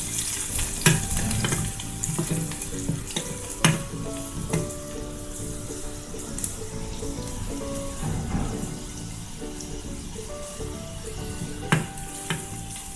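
Finely chopped garlic sizzling in a hot pan for a Marathi gholi bhaji, with a steady frying hiss and scattered crackles plus a few sharp clinks, heard close up with no voices.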